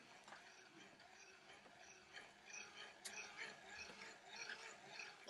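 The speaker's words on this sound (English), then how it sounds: "We can put our hand on here and then we will crank it." Hand crank on a portable outdoor radio turned steadily, giving a faint, close ratcheting, gear-like clicking that runs continuously, with no voices.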